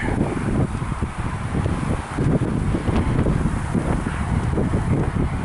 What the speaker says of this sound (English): Wind come up out of nowhere.